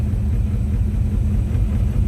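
A steady, low rumbling exhaust from an idling 1969 Ford Mustang engine, heard from the rear, continuous and close, with no voices.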